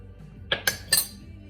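A metal spoon clinks three times against a bowl while stirring a marinade for Portuguese roast seasoned with salt, black pepper and allspice, quick bright taps close by.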